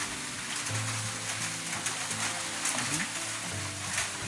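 Steady rain hissing throughout, with faint voices murmuring underneath.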